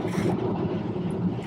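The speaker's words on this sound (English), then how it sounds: "sorry if it's a bit shaky or loud from just the wind" Strong cold wind outdoors during a snowstorm buffets the microphone, making a steady, loud low roar with no talking.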